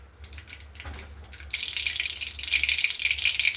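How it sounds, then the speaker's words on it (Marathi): Mustard seeds spluttering in hot oil in a kadhai while tempering a green moong vegetable dish, a steady loud crackle and hiss that starts abruptly partway through and keeps building, with no talking. "मोहरी तडतडली, आता याच्यामध्ये जिरे घालू।"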